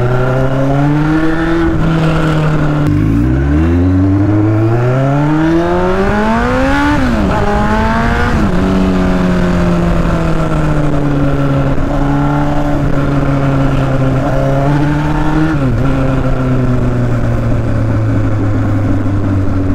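A Yamaha R1 sport motorcycle's aftermarket exhaust roars continuously nearby, its pitch climbing and dropping through repeated throttle revs over a steady, loud engine drone.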